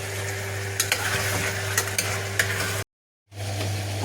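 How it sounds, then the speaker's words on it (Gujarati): Eggplant and potatoes sizzle in hot oil while being stirred, with a steady frying hiss, a low hum, and a few sharp utensil clicks against the pan, briefly cutting out before resuming. "રીંગણા ને બટેટા ને બધી આ તેલમાં કકડાવું એટલે હટ ચડી જાય"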